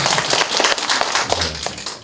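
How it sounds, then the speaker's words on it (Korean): Audience clapping at a residents' public hearing on a landscape plan in Incheon's Dong-gu, a short burst of dense, fairly loud applause lasting about two seconds with individual claps standing out. "박수 한번 쳐주세요"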